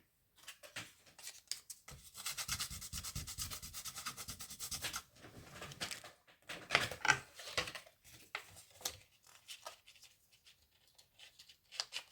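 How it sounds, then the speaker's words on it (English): Close, dry rubbing and scratching of sandpaper across a wood and resin cheese board, starting and stopping in short irregular bursts, with quiet gaps between strokes. "Okay, I will do a tiny bit of sanding,"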